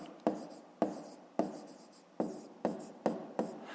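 Pen writing in a school notebook during a fifth-grade maths exercise, a series of sharp scratchy strokes about every half second, close and fairly quiet, with no one speaking.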